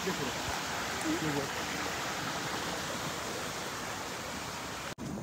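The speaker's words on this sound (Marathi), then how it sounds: "बघा, खळखळणारं पाणी वाहत आहे, सुंदर अशा पद्धतीचं।" A babbling stream flows through a forest, a constant even rush and gurgle of water that holds steady throughout, with a brief knock near the end.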